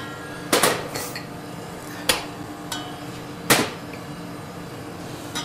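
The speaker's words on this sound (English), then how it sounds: "So, veg into the pan, all but the beetroot." Vegetables are dropped into a pan with herb butter in a kitchen, giving a few sharp metallic clatters and knocks spaced across a few seconds over quiet background noise, with no talking.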